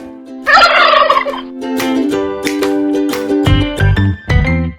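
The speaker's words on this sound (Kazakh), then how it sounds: "Күркетауық күркілдейді." A male domestic turkey gobbles in a loud, close, rattling burst, followed by shorter throaty calls and clucks from the farmyard bird, with no talk over it.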